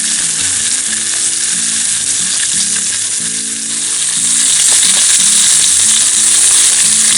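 Veal shanks for osso buco brown in a Dutch oven at an outdoor campsite, giving a loud, continuous sizzle with a steady crackling hiss throughout.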